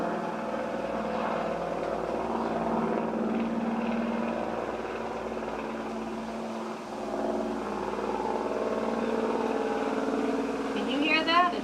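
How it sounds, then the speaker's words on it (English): A low-flying plane or helicopter drones steadily overhead, a continuous rumble that fills the background throughout. "It sounds like there's a very low-flying plane or helicopter, I'm not sure."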